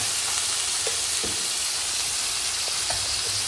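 Lemon juice poured into a pan of snake gourd vegetable sizzling in oil, giving a steady close frying hiss with faint stirring clicks throughout.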